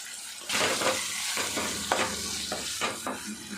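Tomato, curry leaves, salt, ginger-garlic paste and turmeric stirred in a hot pan for korrala lemon rice, a close sizzle punctuated by repeated scraping stirs every half second or so.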